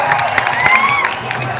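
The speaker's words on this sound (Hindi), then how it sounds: "तालियां बजा दीजिए" An audience at a mushaira poetry recital cheering and clapping, a loud dense crowd roar with shouts of approval throughout.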